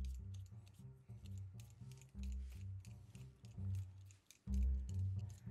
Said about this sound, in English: So we're gonna start off by peeling these potatoes.